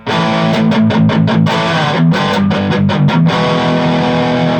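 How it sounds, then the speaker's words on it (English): Heavily distorted electric guitar, a cheap Squier Affinity Telecaster, playing loud, sustained chords with a few choppy rhythmic stabs, dense and saturated throughout. "you would probably get maybe that much distortion out of it"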